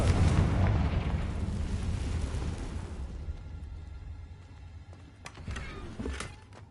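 A Confringo blasting spell effect from a Harry Potter video game, a loud booming explosion that rumbles and decays over a few seconds, followed by faint crackling debris.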